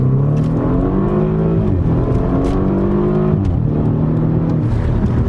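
BMW F30 328i from 2016 with a sport tune, engine revving hard on a dyno, loud and close, with rising and falling pitch sweeps as it climbs through the revs, no talk over it.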